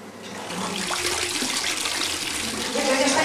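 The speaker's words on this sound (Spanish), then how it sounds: "la fuente con sus caños preparados servía el agua a las tinajas" Water pours steadily from fountain spouts into jars, a continuous, close splashing rush that builds slightly louder toward the end.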